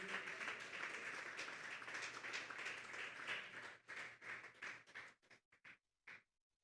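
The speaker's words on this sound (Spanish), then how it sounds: "Fuertes esas palmas para Dios." A church congregation claps loudly and densely during a Sunday service, then the applause thins into a few scattered claps and fades out.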